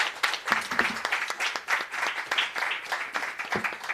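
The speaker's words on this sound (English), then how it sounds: "Let's hear an applause." Steady applause from a crowd, dense overlapping claps sustained throughout at a moderate level, with no voices standing out.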